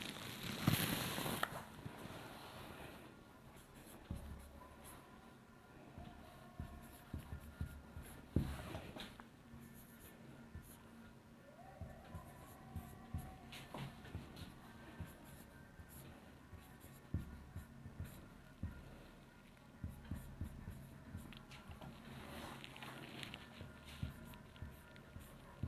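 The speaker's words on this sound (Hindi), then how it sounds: "अब हम स्वरों को लिखते हैं।" Hindi vowels handwritten with a pen on paper: faint, quiet scratching strokes in short bursts separated by brief pauses, close up in a calm room.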